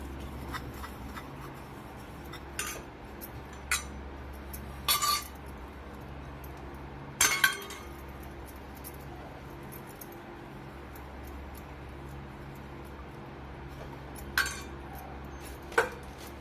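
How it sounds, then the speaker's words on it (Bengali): Bowls being greased with oil for baking cakes clink and tap now and then, a handful of sharp, isolated clinks spread across a quiet, steady background hum with no talking. "এভাবে আমি সব বাটিগুলোতেই তেলটা লাগিয়ে নিচ্ছি।"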